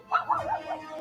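A dog gives a short run of yips and whimpering barks, close by and fairly loud, lasting about a second.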